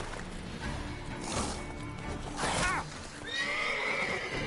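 Horse neighing loudly in The Witcher 3 as it throws its rider, a harsh whinny rising mid-clip with a second drawn-out whinny near the end, over game ambience and faint hoof clatter.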